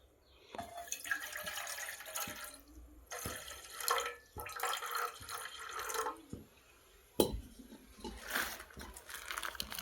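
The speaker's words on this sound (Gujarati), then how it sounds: "નાખ દે હાલો પાણી આપણે" Water is poured into a pot on a gas stove to make tea, a series of splashing, trickling bursts in uneven spurts, close and fairly quiet.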